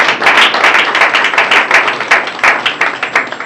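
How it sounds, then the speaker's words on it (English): A conference audience applauds, with dense, close clapping from many hands holding steady and loud for a few seconds, no voices heard. "Can we clap for Dr. Peterson?"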